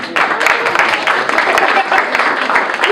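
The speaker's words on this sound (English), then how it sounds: "Give a round of applause for that." Steady applause fills a youth empowerment conference hall, dense clapping sustained evenly from start to finish at close range.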